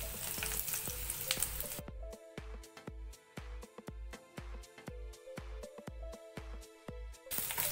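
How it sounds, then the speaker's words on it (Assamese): Onion sizzles in hot oil in a pan while dry fish chutney is cooked, giving a steady frying hiss broken by a rapid series of sharp, regular ticking knocks, heard close with no voices. "পিঁয়াজটো ভাজি লৈছোঁ।"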